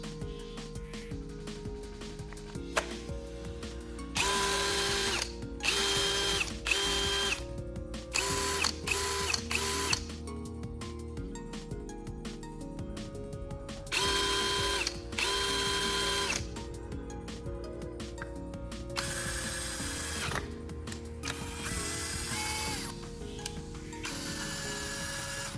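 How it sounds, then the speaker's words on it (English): A cordless power drill, running again after its battery pack was restored, whirs in repeated start-stop bursts of varying length. The motor sounds are close and moderately loud, separated by quieter pauses with faint mechanical hum. "I'm going to install the battery back into the drill and continue with the testing"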